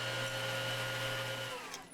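Power tool steadily trimming a cherry wood panel to its final height, a sustained whirring motor hum with a bright cutting tone, fairly quiet and up close, easing off at the end.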